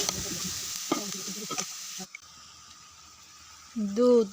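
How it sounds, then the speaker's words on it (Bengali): Boiled mixed vegetables go back into a hot karahi, bringing a scrape and stir over light sizzling. The sizzle then drops to a quiet hiss, and a short voice-like sound comes in at the end. "এখন এই যে সিদ্ধ করা সবজি আবার কড়াইতে দিয়ে দিলাম।"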